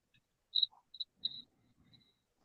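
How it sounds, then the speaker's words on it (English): Sparse, faint cricket chirps used as a sound effect, a few short high-pitched bursts separated by silence, with no talking. "Why we got crickets?"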